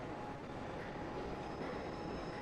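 A train rumbles past a station platform in a steady, continuous roar with a faint high whine above it. It sounds fairly distant and subdued, and no voices are heard.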